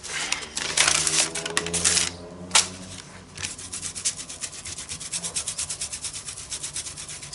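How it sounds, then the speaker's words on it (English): Paint being rubbed quickly all over an art journal page, a close dry scrubbing and scraping that comes in dense bursts, briefly pauses, then settles into a steady rhythmic rubbing. "so just quickly rubbing all over."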